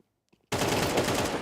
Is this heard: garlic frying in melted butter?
no